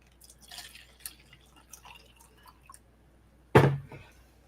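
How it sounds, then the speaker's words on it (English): Tea poured into a cup, heard as one brief liquid splash near the end after a stretch of quiet, soft rustling. "I'm going to reach over and pour myself some more tea"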